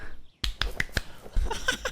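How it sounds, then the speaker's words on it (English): An anime brush character claps, a handful of sharp, dry claps spaced quickly one after another and heard close, with faint background sounds in between. "Brush buddy's literally clapping, bro."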